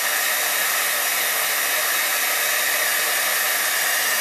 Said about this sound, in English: And when you're using the heat gun, be careful not to keep it in one place